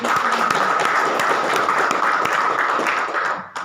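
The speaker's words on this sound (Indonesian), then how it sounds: "Tepuk tangan untuk Pak." A seated audience at a business presentation claps in a steady, dense burst of applause that holds evenly for a few seconds before cutting off abruptly.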